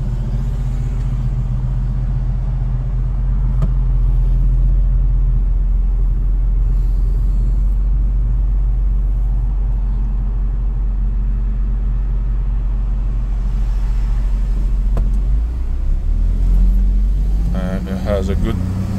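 A small 2017 Smart car in sport mode accelerates, its steady engine rumble and road noise droning from inside the cabin throughout, with a brief shift in tone near the end.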